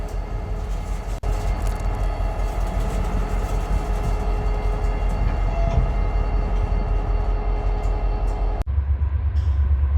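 CSX freight train rolling northbound past Collier Yard, a loud, continuous rumble with a steady rhythm of wheels on rails and a sharp change near the end.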